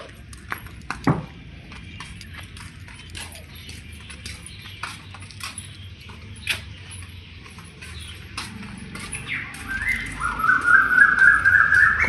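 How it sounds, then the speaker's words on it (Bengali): Bird song outdoors beside a home on a cool morning after rain, with scattered chirps through steady low background noise that grow clearer and more continuous near the end, along with occasional sharp taps. "পাখিটা কি সুন্দর ডাকছে"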